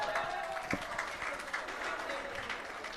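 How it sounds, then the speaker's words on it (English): Applause from an audience at a live evening presentation event, steady dense clapping lasting throughout, with crowd noise and a brief tone near the start. "Give her a round of applause."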